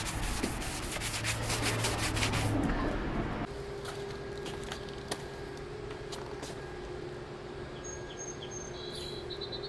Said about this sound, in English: If anybody's wondering what this is 250 grit block,